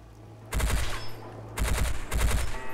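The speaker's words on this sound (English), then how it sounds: "we're just gonna have to kill everything with the battle rifle" Halo battle rifle firing in a VR video game, two or three quick bursts of sharp, loud, closely spaced shots separated by brief pauses.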